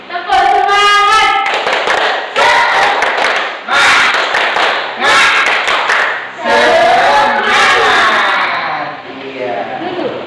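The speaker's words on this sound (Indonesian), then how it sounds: "Terima kasih Mbak Rizka sudah memimpin untuk yel-yel dan tepuk semangat." Schoolchildren clapping a rhythmic tepuk semangat pattern in bursts, loud and close, alternating with shouted group chants and yells in unison.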